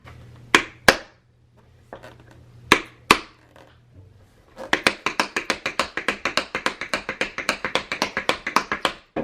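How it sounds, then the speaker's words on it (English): Tap shoes brushing forward and stamping on a hard floor: a few isolated sharp double strikes at first, then a fast, steady run of crisp taps close by, with no talking. "you want to brush the floor and stamp"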